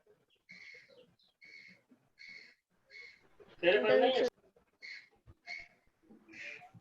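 Crows caw repeatedly in the background of an online chemistry class, a run of evenly spaced harsh calls with a brief burst of louder noise partway through.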